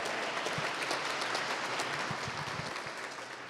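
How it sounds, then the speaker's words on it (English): Audience applause at a community cabinet event held at Johnson & Wales University, following a cooking demonstration. The clapping is steady and dense, moderately distant, and tapers off slightly toward the end. "Give them another round of applause, please."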